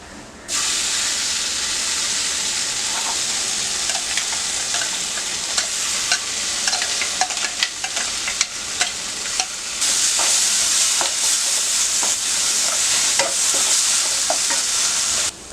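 Onion and tomato paste hits hot oil with masala and coriander powder in an egg curry pan, giving a loud, steady sizzle and hiss with occasional stirring scrapes throughout, without talk.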